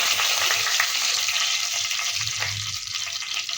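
Two bay leaf pieces sizzle in about three spoonfuls of hot oil in a wok, a steady, loud, close frying hiss that continues throughout, with no voices.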